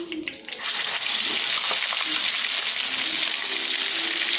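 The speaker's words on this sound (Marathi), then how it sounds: "तेल थोडं गरम झालं की पाव चमचा ही चार पाच कडी आणि वाटलेला मसाला टाकून घेऊ" Curry leaves and ground masala drop into hot oil for a spicy sev curry, bursting into a loud, dense sizzle after a quiet moment and holding steady and close.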